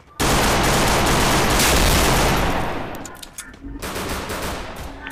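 Loud rapid automatic gunfire in Counter-Strike rattles close in one continuous burst for about three seconds, then breaks into shorter scattered shots.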